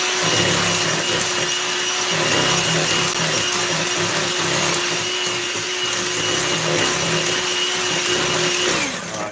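An electric mixer whirring steadily as it mixes Dundee cake ingredients, loud and close, running continuously for several seconds before cutting off at the end.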